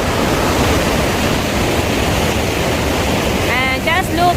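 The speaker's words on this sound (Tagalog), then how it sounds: "The Mardalsfossen is in front of us." Mardalsfossen waterfall pours with a loud, dense, steady roar close by, and a short whistle-like chirp rises near the end.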